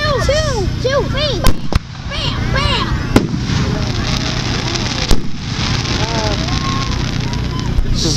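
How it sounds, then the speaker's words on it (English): Several sharp fireworks bangs burst at intervals amid whistling, crackling pyrotechnics, with excited voices and squeals among a crowd at a Fourth of July fireworks show in Newtown. "This is a fireworks show for, Oh, here comes one! Oh, here comes one! Boom!"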